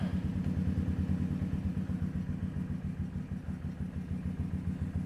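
A Yamasaki YM50 motorcycle engine idles after a cold start, a steady, close, rhythmic low putter with slight clatter and a faint dip in loudness midway, no voices.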